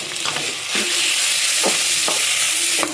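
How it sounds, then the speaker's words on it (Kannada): Ginger garlic paste fries in a pan with a loud, bright sizzle, while a spoon pushes it around in several sweeping scrapes, close up with no voice. "ಶುಂಠಿ ಬೆಳ್ಳುಳ್ಳಿ ಪೇಸ್ಟ್ ಹಾಕ್ತಾ ಇದ್ದೀನಿ. ಅದನ್ನು ಫ್ರೈ ಮಾಡ್ಕೊಳ್ಳೋಣ."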